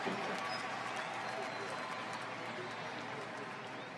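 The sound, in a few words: baseball crowd applauding a Yankees home run at World Series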